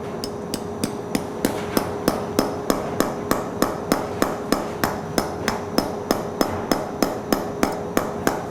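A hammer taps a surgical chisel into a dog's elbow during surgery, a long run of sharp, evenly spaced metallic clicks, roughly three per second, close and clear with no talking.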